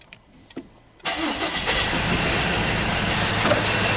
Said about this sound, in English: Let me see what's going on with that rough idle. So let's start the vehicle back up again